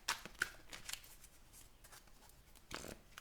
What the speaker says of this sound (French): vous ne voyez pas forcément quand je brasse les cartes